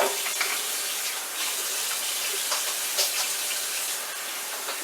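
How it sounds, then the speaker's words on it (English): Hands being washed under a running kitchen tap, making a steady, fairly loud rush of water with small splashes and changes as the hands move through the stream. "Washing my hands."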